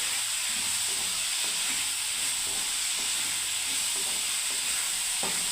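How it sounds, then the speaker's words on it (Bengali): Spices fry with red chili powder in a pan while cooking poppy seed paste with green banana, giving a steady, loud sizzle and hiss with occasional soft stirring scrapes and no talking. "এবার আমি ভালো করে ভেজে দেবো"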